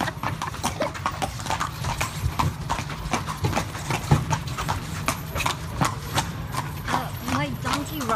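Horse-drawn carriage on a ride through Petra, Jordan, hooves clip-clopping in a steady, fairly loud rhythm while people talk over the top throughout.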